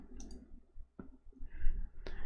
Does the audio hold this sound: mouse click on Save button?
yes